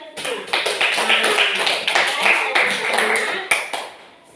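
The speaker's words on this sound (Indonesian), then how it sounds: "kita tepuk tangan untuk kita semua" A class claps hands together in a brisk, rhythmic burst of many sharp claps lasting several seconds, while voices talk over the applause.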